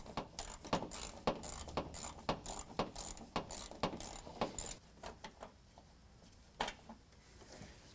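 A 10mm ratchet clicks in quick bursts while backing a bolt out of a 2019 Ram 1500, the sharp repeated ratcheting strokes close and distinct, thinning to a few scattered clicks toward the end.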